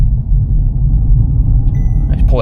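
A used Audi A3 S-line with a manual clutch shifts into second gear, its engine a steady low rumble heard from inside the cabin, loud and continuous.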